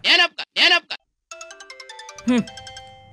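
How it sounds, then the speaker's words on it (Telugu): A phone ringtone plays a steady repeating electronic pattern just after a couple of quick spoken words, with a brief voice cutting in over it. "మళ్ళీ ఫోన్ చేస్తుందేంట్రా?"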